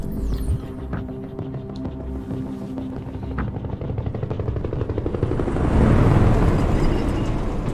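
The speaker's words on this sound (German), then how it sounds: "SWAT-Hubschrauber." A SWAT helicopter in the video game Detroit: Become Human gives a steady low throbbing rotor drone that swells louder toward the end, heard alone with no talk.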